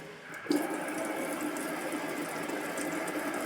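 Water from an instant hot water tap starts gushing with a sudden onset, then runs as a steady, even hiss into a sink, fairly quiet and without voices.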